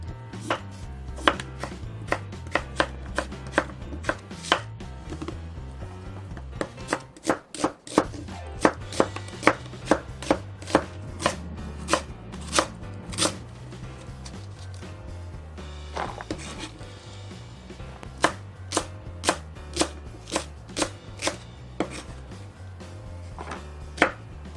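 Potatoes, onion, green onion and chili peppers for a potato jjageuli stew are chopped on a cutting board in brisk, evenly spaced knife strikes, close and clear, with no talking.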